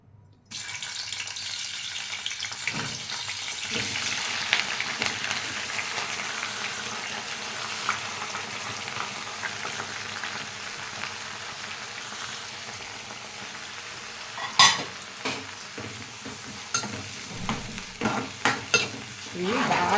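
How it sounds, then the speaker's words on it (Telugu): Onions, curry leaves and tomatoes fry in oil in a kadai, giving a steady close sizzle with stirring and a few sharper scrapes and clatters near the end; no one speaks. "కళాయి వేసుకుని నేను ఆయిల్ వేసుకున్నానండి"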